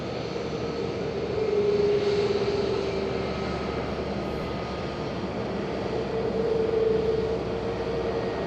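Airplane at Madeira Island Airport, a steady broad engine roar that swells slightly and holds throughout, with no talk.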